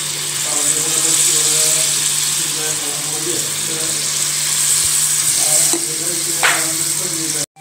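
Unniappam batter fries in the wells of an appam pan over a medium flame, a dense, steady sizzle with faint bubbling, close and loud, with a few small clinks and a brief pour near the end.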